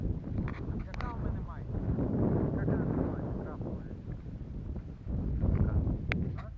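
Strong wind buffeting the microphone in low rumbling gusts on a foggy, damp Carpathian mountain summit, with a few faint sounds and movement in the background.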